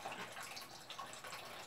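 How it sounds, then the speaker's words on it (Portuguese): Tap water running and splashing while dishes are washed in a home kitchen sink, a steady close hiss of flowing water with small splashy variations, no voices. "Aí vou lavar esses pratos aqui."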